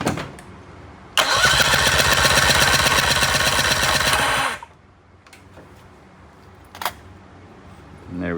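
A Mercury 25XD two-stroke outboard, running on temporary battery terminals, cranks loudly with a fast, even chugging of the starter for about three seconds, then cuts off into near quiet with a few faint clicks.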